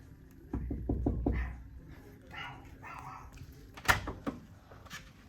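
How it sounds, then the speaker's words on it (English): A dog barks in a nearby hotel room: a quick run of four or five sharp barks, then quieter whimpers, with one more loud yip near the end. "There's a dog in that room."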